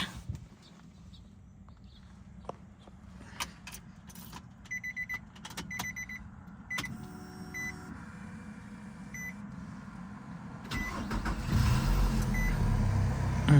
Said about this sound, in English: Let me start the car again and see how it works with the new battery.